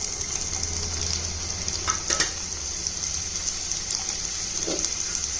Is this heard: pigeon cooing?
no